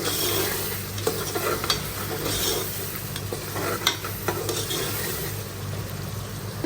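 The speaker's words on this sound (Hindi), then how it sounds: "मसाला मैंने बहुत अच्छे से भून लिया है" Masala frying in a pan and being stirred, with a steady broadband sizzle throughout and scraping stir strokes coming through close and fairly loud; no talking.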